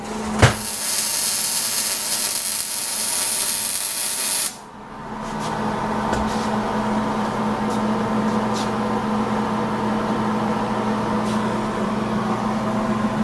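A steady crackling, sizzling hiss of MIG welding with a Miller-Matic 175 on a 1965 Chevy C-10 exhaust runs throughout, with a loud buzzing arc for the first few seconds and occasional sharp pops.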